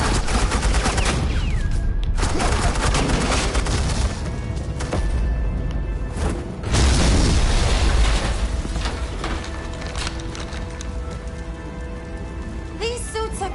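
Suppressing gunfire rattles through a scene in the Batman: The Enemy Within video game, loud and continuous bursts with a brief lull partway through, layered over faint tonal background sounds.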